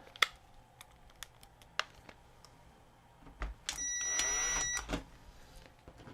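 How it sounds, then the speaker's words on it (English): Screws are driven in to fasten the cover of a Sylvania DVR90VF DVD-VCR combo: faint scattered clicks and taps, then a single buzzing motor whine lasting about a second, fairly close and quiet. "Two screws to hold the cover down."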